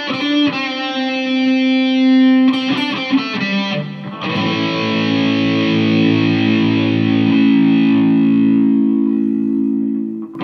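An electric guitar played through a Marshall Code 50 watt amp on a distorted preset rings out in sustained, heavily driven chords with a quick choppy passage, loud and close.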